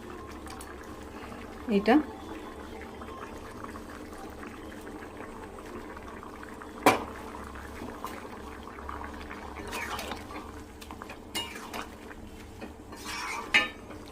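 Paneer curry with a cashew and poppy-seed paste simmers quietly in a pan, a faint soft bubbling with occasional clinks of utensils against the pot, while someone talks briefly at intervals.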